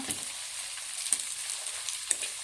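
Pork fat renders and fries in a covered pan with soy sauce, giving a steady close sizzle with a few sharp pops and spits standing out.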